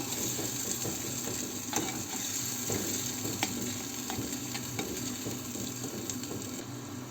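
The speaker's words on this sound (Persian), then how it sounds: "رب ها رو همراه پیاز و سیر تفت بدیم" Plum paste and pomegranate paste sautéed in a pan with onion and garlic, a soft steady sizzle with faint scraping and clicking of a utensil, no talking.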